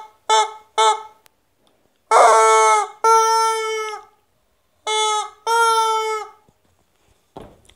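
A baby chicken calls loudly and close by: two short squawks, then longer drawn-out cries in pairs, separated by brief silences.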